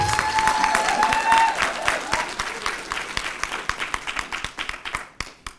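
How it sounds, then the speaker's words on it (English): Audience applause at a Women's Month event, a loud burst of many hands clapping that thins out toward the end into scattered individual claps, with a brief tone early on. "Let's give him another awakened applause."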